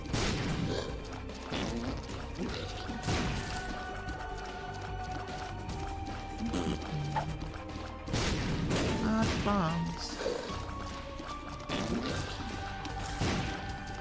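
Explosions and combat in The Binding of Isaac: Afterbirth+, repeated crashing blasts and thuds recurring every second or two over a continuous game soundtrack with tonal notes, dense and busy throughout.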